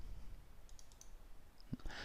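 A few light, crisp computer mouse clicks, quiet and close, spaced across a near-silent background with a brief rustle at the end.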